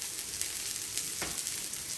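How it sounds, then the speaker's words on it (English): Mushrooms sizzle in a hot pan on a stove, a steady close frying crackle with small pops, heard on its own without talk. "My mushrooms are sizzling away"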